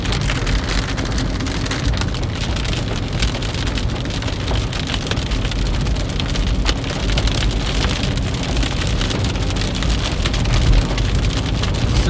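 Heavy rain in a severe thunderstorm near Salina, Kansas, a dense, constant roar of downpour pounding surfaces with no pause.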